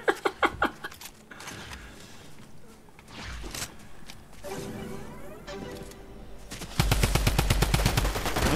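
Bursts of rapid gunfire from the Midas Mythic Drum Gun in Fortnite, with sharp shots at the start, scattered sounds mid-way, then a loud sustained volley near the end.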